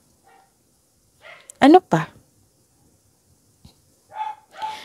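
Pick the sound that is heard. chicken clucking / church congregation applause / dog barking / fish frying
dog barking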